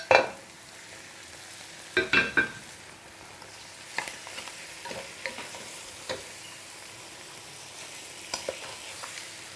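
Goat meat stirred in a pan with garlic, with soft background frying and a few louder scraping clatters from the spoon.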